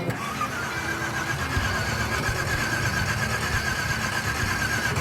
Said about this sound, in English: Engine just decides I don't want to run.